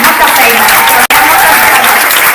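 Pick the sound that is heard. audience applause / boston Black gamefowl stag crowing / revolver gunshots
audience applause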